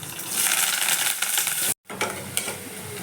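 Garlic, onion and curry leaves frying in hot oil for a pumpkin curry, giving a loud, dense, steady sizzle that cuts out for an instant partway through, then resumes with a few sharp clinks of stirring.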